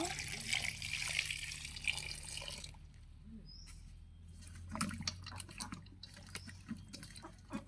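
Water running and splashing into a pot while hog plum pickle is being made, a steady wash of pouring for the first few seconds, then fading to faint drips and light clatter with birds in the background.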